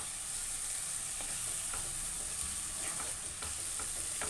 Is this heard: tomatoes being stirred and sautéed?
yes